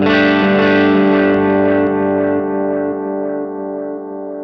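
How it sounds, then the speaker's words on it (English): Guitar chord run through a tape delay pedal set for many repeats, ringing out loud then fading steadily as the echoes trail off, with no one talking. "You know, tape delays are my favorite delays, like a real tape delay."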